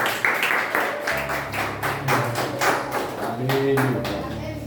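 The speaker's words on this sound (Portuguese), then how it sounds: "Aplauda o Senhor." A church congregation claps together during a worship service, a rhythmic run of hand claps at moderate distance with murmuring voices and a sustained tone underneath.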